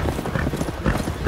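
Horses gallop during a race along the sea in the 2003 film Secondhand Lions, their rapid hoofbeats drumming close and steady with a brief whinny, under a faint voice.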